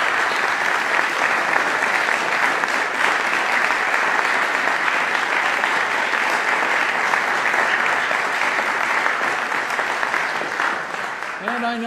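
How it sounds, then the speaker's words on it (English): Sustained applause from an audience honoring congressmen at an ambassador's swearing-in ceremony, dense and loud, continuing evenly before tapering at the end as a voice begins. "Would you give them all a round of applause for their time?"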